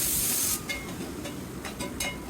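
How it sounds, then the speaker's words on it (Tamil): Coriander leaves sautéing in a pan for pirandai chutney: a steady sizzling hiss that starts with a sharp spray-like burst, then settles into crackling frying with a few louder pops. "கொத்தமல்லி தலையை சேர்த்துட்டு நல்லா ஒரு ரெண்டு ரெண்டு நிமிஷம் வதக்கி எடுத்துக்கலாம்"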